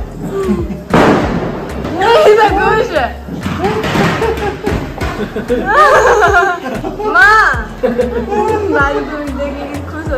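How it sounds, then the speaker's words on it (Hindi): Sharp popping bursts of Diwali firecrackers go off several times amid lively chatter and laughter from people nearby. "ये अपना पटाखा फोड़ रहा है"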